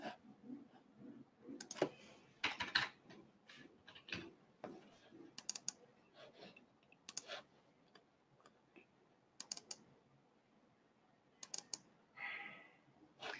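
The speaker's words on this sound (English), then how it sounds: "I'm just clicking through" A computer mouse and keyboard click in scattered bursts while someone searches through files in an office, with soft taps and pauses between them, fairly quiet and close.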